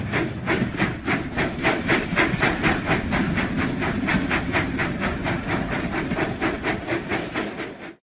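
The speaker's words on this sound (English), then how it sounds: "Percy puffs and chuffs down the track." A steam locomotive from a Thomas & Friends video game chuffs steadily along the track in a fast, even rhythm of loud, hissing puffs that continues almost without a break. No voices can be heard.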